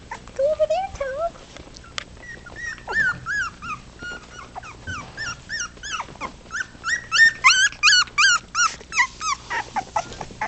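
Four-week-old puppies play and whimper, letting out high-pitched squeaks, yelps and whines in quick overlapping bursts, some growly, close by. Adult voices speak softly in between.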